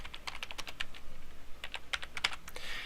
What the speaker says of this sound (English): hit enter again and type your name